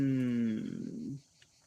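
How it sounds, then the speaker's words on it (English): A cow in the video game Martha is Dead lets out a single low, drawn-out moo lasting about a second, fairly close and clear, with no speech over it. "is that a cow down there? It certainly sounds like that."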